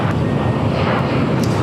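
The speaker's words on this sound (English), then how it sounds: "787-9 Dreamliner now pushing back from the west gates." An Air Tahiti Nui Boeing 787-9 Dreamliner pushes back from the west gates at LAX, giving a steady, loud broadband jet engine roar with constant low rumble and no break.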